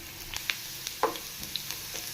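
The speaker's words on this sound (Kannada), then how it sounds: "ಬೆಳ್ಳುಳ್ಳಿ ಹಾಕ್ಕೊಳ್ತಾ ಇದ್ದೀನಿ, ಚೆನ್ನಾಗಿ ಫ್ರೈ ಮಾಡ್ಕೋಬೇಕು ಬೆಳ್ಳುಳ್ಳಿ." Garlic fries in about two spoons of oil in a pan, giving a steady, close sizzle with small pops and light stirring clicks, with no talk.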